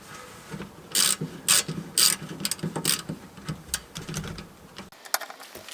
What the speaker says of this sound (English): Okay, so these are the screws I'm removing.